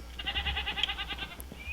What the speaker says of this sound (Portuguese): E a nossa ovelha tinha fugido, deu pra puxar ela de volta